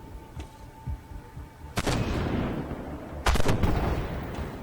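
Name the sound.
tank gunfire in the video game Armored Warfare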